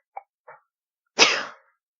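A single loud sneeze bursts out near the microphone during a casual podcast recording, preceded by two short faint breathy catches.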